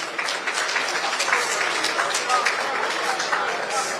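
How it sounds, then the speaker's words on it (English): Audience at a Nigerian opposition political parties summit claps for a presenter, a dense, steady wash of applause filling the hall throughout without a break. "Shall we all clap for him,"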